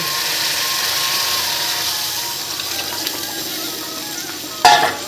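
Soaked paneer and its soaking water poured into oily fried masala in a pan: a steady sizzle and frying hiss, then a sudden louder splash and hiss as the liquid hits near the end.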